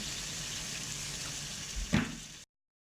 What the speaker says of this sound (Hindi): थोड़ा सा हल्का हल्का सा पानी का छींटा लगा के इसको मैं भूनूंगी।